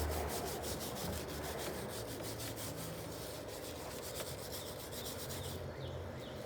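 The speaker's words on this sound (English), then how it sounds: "I am grinding all the surface rust off of it" Surface rust being ground off an air conditioner compressor from a 20000 BTU Emerson Quiet Kool unit, a continuous close abrasive rasping with rapid rhythmic scraping pulses throughout.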